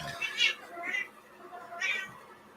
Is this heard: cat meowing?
yes